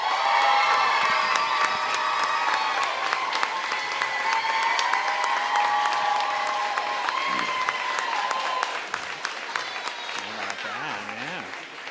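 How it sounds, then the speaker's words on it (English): An elementary school audience at a board of education meeting breaks into sustained applause with cheers and whoops, loud and continuous, thinning slightly toward the end as a voice begins speaking. "you did get the loudest applause"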